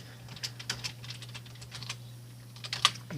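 Quick, light keystrokes clatter on a computer keyboard in short irregular runs, close up and fairly soft, with a steady low hum underneath.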